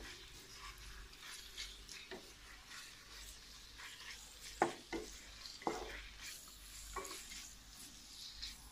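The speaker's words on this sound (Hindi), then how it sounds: "इसको फ्राई करना है हल्का सा बस।" Boneless chicken pieces fry lightly in a pan for chicken momos, a soft steady sizzle punctuated by occasional clinks and scrapes of stirring; quiet and close, with no talking.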